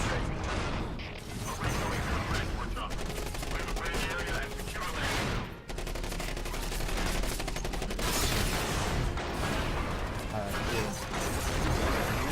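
Rapid continuous gunfire and mechanical clatter in the mech combat video game Front Mission Evolved, dense and loud throughout with brief dips, while a player talks over it.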